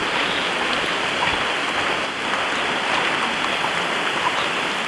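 Rain pours onto a deep-forest footpath during the rainy season, a dense, steady hiss of drops that stays even and close throughout, with no voices.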